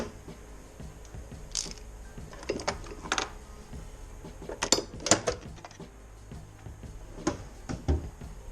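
Wrench working the wheel fasteners off a Power Wheels Jeep raised on its front end, giving a series of quiet, scattered metallic ratcheting clicks and clanks at irregular intervals, with no talk.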